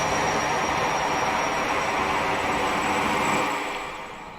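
A Class 43 HST with Valenta engines runs from Preston to Glasgow in Train Simulator Classic, giving a steady, dense rolling roar that holds evenly, then eases off slightly near the end.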